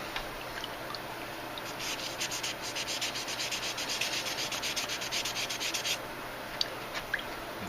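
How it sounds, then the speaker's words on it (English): Light hand sanding on a pot metal part from a 1955 Chrysler, a soft steady scratching rub with quick rhythmic strokes for several seconds over low background hum. "I'm going to try to sand on it lightly"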